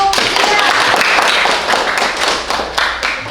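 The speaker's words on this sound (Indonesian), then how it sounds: "Berikan aplaus dulu untuk" Audience clapping at a teacher training class event fills the room, loud and steady for a few seconds with dense overlapping hand claps and a few louder accents.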